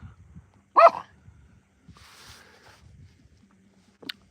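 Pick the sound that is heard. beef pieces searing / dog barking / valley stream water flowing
dog barking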